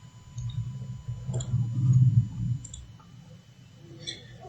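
A few faint, sharp computer mouse clicks sound in a quiet room over a low background hum, spread across a few seconds.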